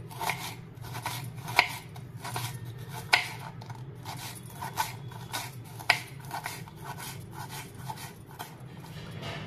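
Knife finely chopping taro (alu) leaves and stems on a board, with soft, fairly steady cutting taps and a few sharper, louder strikes over a low background hum.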